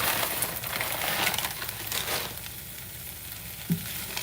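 Frozen mixed vegetables and sweet corn fry in a pan for a stir fry, giving a soft, steady sizzle with faint stirring rustles and one small knock near the end.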